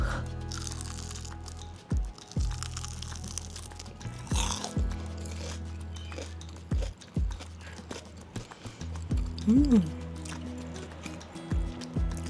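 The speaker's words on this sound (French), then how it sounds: "Je vais donc goûter un petit morceau." Crispy marinated Japanese chicken tenders are bitten and chewed close to the mic, with sharp crunches at intervals over a quiet background.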